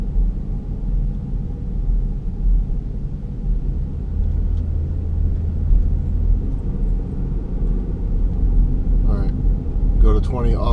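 A 2011 Ford Flex Limited coasting at about 20 mph with the throttle released gives a steady low road rumble and drone from inside the cabin, with faint talk near the end.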